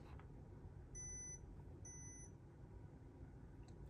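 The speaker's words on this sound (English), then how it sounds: "I've never heard an iPod Nano make a beeping noise like that." A 4th-generation 4GB iPod Nano gives two short, high electronic beeps about a second apart, faint over a steady low background hum, with no voices.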